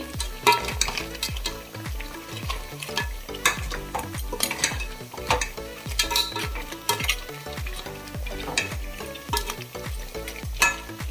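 Crab gravy is stirred in a pan, giving a steady, rhythmic run of scraping strokes and light metallic clinks over a low simmering bubble, close and continuous for the whole stretch.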